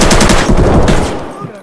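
Rapid automatic gunfire in Escape from Tarkov, a loud, close burst of rattling shots that fades away in the final moments.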